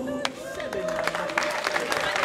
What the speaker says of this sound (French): On applaudit très très très très fort.